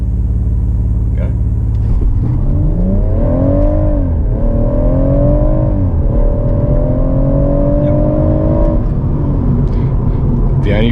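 A 2017 BMW F20 M140i with a ZF 8-speed automatic launching hard from 0 to 100 km/h: the engine note climbs through several rising sweeps separated by brief dips at each upshift, loud and close, after a low idle at the start.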